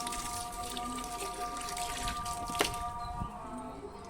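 Adenium plants are watered in a home garden after fertilizing, with water dripping and pattering steadily onto soil and leaves, broken by one sharper splash near the end.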